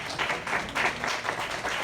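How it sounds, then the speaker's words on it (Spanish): Brief, moderately faint applause from an audience at the close of a history lecture on the Revolution in southern Veracruz, a short burst of mixed clapping with no talking. "Un aplauso, por favor, para ellos."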